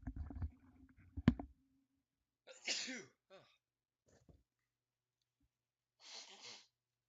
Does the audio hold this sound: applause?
no